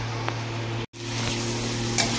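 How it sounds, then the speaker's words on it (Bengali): Onions and tomatoes frying in a small amount of oil for a tadka: a soft, steady close sizzle with a brief dropout partway through. "এখানে পেঁয়াজ টমেটো মোটামুটি ভাজা হয়ে গেছে"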